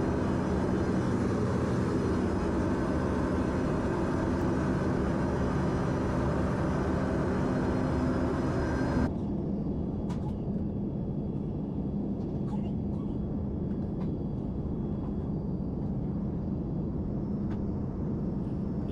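Steady broadband roar of an Embraer E145 jet cabin in flight, an aircraft over 20 years old, loud and constant throughout, with the upper hiss dropping noticeably partway through while the low engine drone continues.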